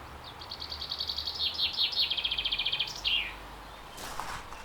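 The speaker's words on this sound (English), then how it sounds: "he wanted to hear this sound in his garden. That's a chaffinch." A chaffinch sings in a garden: one clear song phrase of rapid repeated trills that speeds into a descending flourish with a final twist, fairly close and alone over quiet background hiss.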